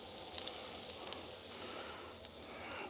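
Asparagus with garlic sizzling on a hot griddle, a steady quiet hiss with a few faint crackles throughout, no voices.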